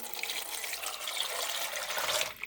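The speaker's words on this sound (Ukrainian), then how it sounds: "Залию водою, багато ні, щоб через верх не тікала вода." Water runs steadily into a pressure cooker holding potatoes, a continuous close splashing pour with no voices.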